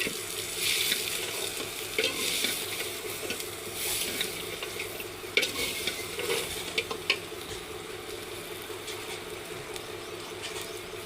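A spoon stirs bitter gourd curry frying in a pan, with steady loud sizzling and occasional scraping clinks of the spoon, and no talking.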